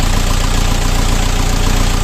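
A 40 hp mini tractor engine idles loudly and close by, a steady rapid knocking chug with constant vibration and no voices.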